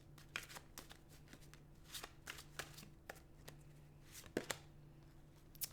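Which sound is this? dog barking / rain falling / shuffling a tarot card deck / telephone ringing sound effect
shuffling a tarot card deck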